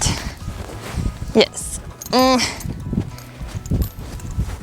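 A small horse wearing a rope halter walks with soft, irregular hoof clip-clops on the ground. A person speaks steadily over the steps.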